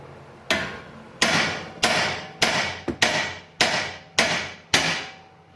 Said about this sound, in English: we'll give it a shot here with the old hammer